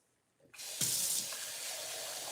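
Hot water starts running from a household tap after a brief click, a steady gush of moderate loudness that continues alone to the end with no talk.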